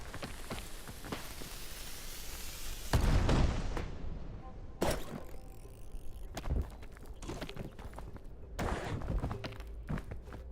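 Heavy booming blasts from a scout cannon in a video game, a loud burst near the three-second mark followed by further sharp bangs and scattered clatter amid busy game noise.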